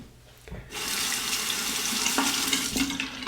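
Tap water gushes steadily into a sink as a combo razor is rinsed under it, starting after a short knock and holding a loud, even hiss with small splashy changes throughout.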